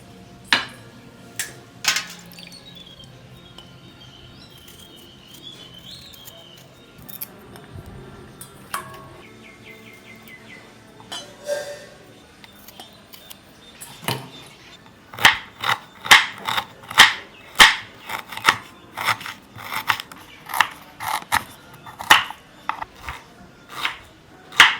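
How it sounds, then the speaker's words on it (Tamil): Fresh ginger is finely chopped with a knife on a board: after some quiet clinks and handling, rapid, even knife strikes tap out a brisk close rhythm. "அடுத்தது 50 கிராம் இஞ்சியும் பொடி பொடியாக கட் பண்ணி எடுத்துக்கலாம்."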